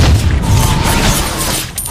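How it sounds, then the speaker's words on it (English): A turret is blown up in the mobile battle arena game Mobile Legends, a deep, heavy boom rumbling loudly with a sustained low roar and scattered crackle. "Your team destroyed a turret!"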